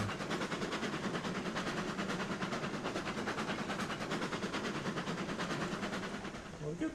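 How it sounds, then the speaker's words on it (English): A slow game train crawls along the rails at about five miles an hour with a continuous heavy rumble and a faint rhythmic clatter. The sound holds steady and eases off slightly at the end. "This is the world's slowest train."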